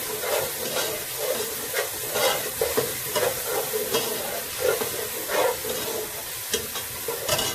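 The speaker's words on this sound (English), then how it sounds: "we add our garlic in, stirring a bit" Garlic fries in a pot over browned onion for a Gambian chicken and peanut stew, a steady crackling sizzle punctuated by rhythmic scraping strokes of stirring, close and continuous with no voices.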